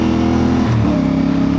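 A CF Moto 450 MT twin-cylinder motorcycle runs at high speed, its engine droning loud and steady with a brief dip and climb in pitch as it shifts or changes throttle, under heavy wind rush, with no talking.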